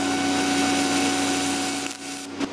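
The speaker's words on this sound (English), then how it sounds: "This is a solid aluminum weld in real time." Aluminum lap joint being MIG welded with an HTP RSG 258 spool gun, giving a steady, close, continuous buzzing hiss with a constant hum that wavers and fades slightly near the end.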